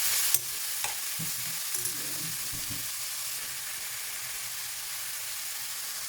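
Vegetables seasoned with turmeric, ginger and salt frying in a pan, a steady close sizzle and hiss throughout with a few brief knocks of stirring near the start.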